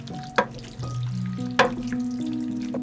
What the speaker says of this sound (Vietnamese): mình trộn phần gan gà vừa xào lúc nãy vào với chảo thịt luôn